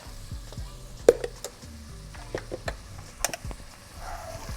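Flour stirred into melted butter in a pot to make a roux for chicken pot pie soup, a soft low sizzle broken by scattered clicks and scrapes of a utensil against the pan.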